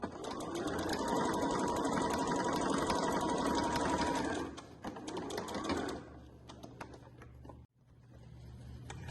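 Sewing machine stitching a beach bag, running fast and steady for several seconds, then backstitching with slower, uneven bursts. A brief stop follows before it resumes. Close and clear, with no talking.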